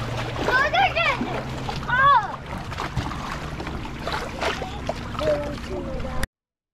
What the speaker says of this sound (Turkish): Dalga geldi.